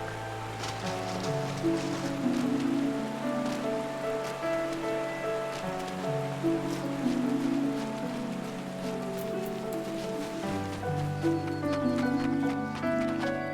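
Steady rain falls in the green woodland area of Gridania in Final Fantasy XIV, a soft continuous patter under layered ambient music that carries on throughout.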